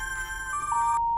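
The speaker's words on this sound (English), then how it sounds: "This is my old cell phone. The one I got rid of a few weeks ago. And it's ringing." An old cell phone rings in The Charnel House Trilogy game, a short electronic ringtone of steady tones that holds for about a second and stops abruptly, loud and close with no talk.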